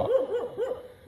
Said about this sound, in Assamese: এইফালে কুকুৰো ভুকিছে